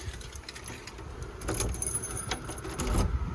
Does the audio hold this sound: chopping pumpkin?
no